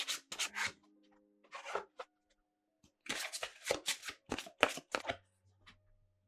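Oracle cards shuffled for a tarot reading, several bursts of riffling and rubbing separated by short pauses, close and fairly quiet.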